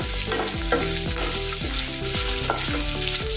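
Onions softening in oil with curry leaves in a pan for dal, a loud continuous sizzle with repeated scraping strokes of a spoon stirring at a steady rhythm; no talking.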